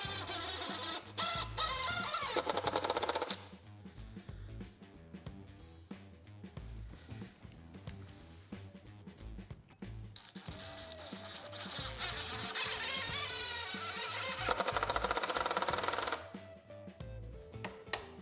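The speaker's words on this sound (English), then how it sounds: "I have the boards placed on the trunk here, and I'm screwing them in good." Power driver screwing old barn wood boards onto a trunk for rustic porch decorations, with repeated bursts of whirring motor alternating with clicks and quieter handling sounds, fairly close and steady.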